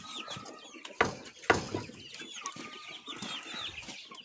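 Young Pushkin and mixed-breed hens in a farmyard coop cluck and chatter close by, with a couple of sharper, louder squawks and a run of soft, scattered calls in between.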